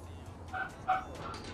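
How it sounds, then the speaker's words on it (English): A dog in the video game Cyberpunk 2077: Phantom Liberty gives two or three short, faint yipping barks at a distance over a low background hum. "Sorry about the barking."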